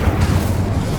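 The Incendio fire spell in Hogwarts Legacy erupts as a loud, rumbling blast that roars steadily for about a second, close and dense, with no voices over it.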